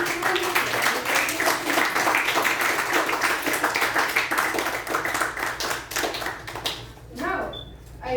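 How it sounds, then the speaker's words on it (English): A large audience at a youth leadership program's Toastmasters session gives a loud, sustained round of clapping that fills most of the stretch before tapering off near the end, with a few voices around it. "Please give a huge round of applause to our"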